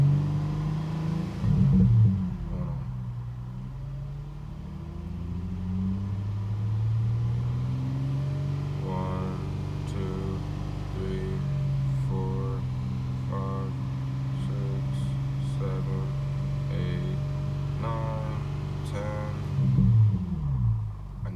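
An Infiniti G35 with a muffler delete revs up and holds a steady raspy drone around 3,000 RPM for several seconds, close and loud, with brief blips as the throttle opens and closes at either end.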